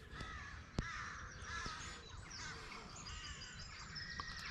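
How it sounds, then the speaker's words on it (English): Crows caw repeatedly over a faint morning chorus of twittering birds near a farm pub campsite, calls moderately distant and overlapping. "That's the morning chorus, as they call it."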